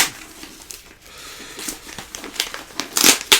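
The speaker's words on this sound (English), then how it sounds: "So let's unwrap it and see what we've got." Paper wrapping on a paperback mystery book is torn and crinkled open, with close, continuous rustling and a few sharper rips toward the end.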